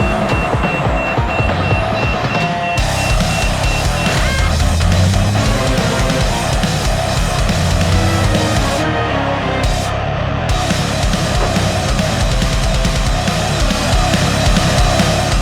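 Two Idrogru KT160 cranes working together to haul a 30-tonne load out through an exit, with a steady loud engine drone and continuous repeating reversing beeps throughout.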